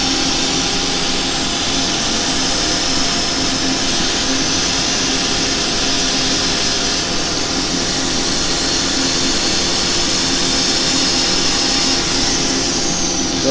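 Turned wood spinning on a lathe is sanded with 240 grit paper, giving a steady, loud, continuous whirring hiss that stays even throughout with no speech.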